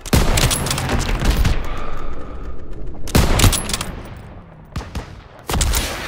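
Call of Duty WW2 campaign battle gunfire, with loud bursts of rapid automatic fire broken by short pauses, then scattered single shots and a final heavy volley.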